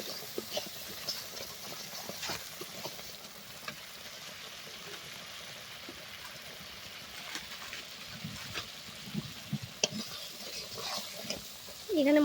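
Haleem spice mix stir-frying in oil, a soft steady sizzle with scattered scraping and stirring clicks, moderately near and even throughout with no talk.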